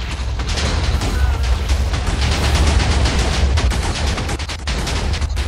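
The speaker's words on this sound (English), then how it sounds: "Hit the advanced particle bombs." Advanced particle bombs exploding in Alpha Factions, a loud, dense barrage of overlapping blasts and crackling impacts that rolls on without pause.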